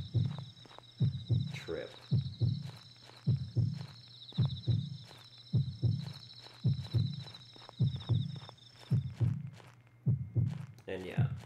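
Low, thumping double-beat heartbeat from the horror video game Yomawari: Midnight Shadows pulses steadily throughout, repeating roughly every second under a sustained high tone, with a person talking over it.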